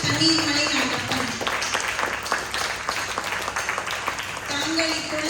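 An audience applauds children after a Tamil drama performance in Malaysia: dense, continuous clapping from a hall crowd, with a voice speaking over it at the start and again near the end.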